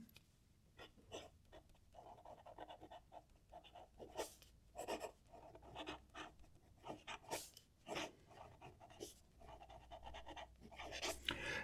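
A medium-nib fountain pen scratches across paper in short strokes and pauses, close and quiet, with no talking.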